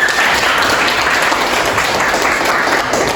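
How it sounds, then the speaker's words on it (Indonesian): A classroom of students bursts into steady, loud applause, a continuous dense patter of many hands clapping together for a few seconds with no talk over it. "tepuk tangan buat semuanya"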